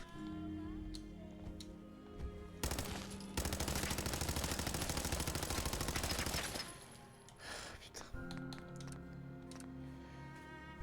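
Rapid automatic gunfire in a video game, a dense sustained burst lasting several seconds that rises loudly over steady in-game music, then cuts off as the music carries on.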